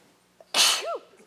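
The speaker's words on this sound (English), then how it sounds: "Sorry, I'm going to sneeze." A single loud, close sneeze from a person at a city council meeting, a short inhaled catch followed by a sharp explosive burst that trails off, in an otherwise quiet room.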